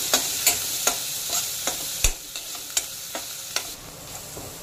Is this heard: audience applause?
no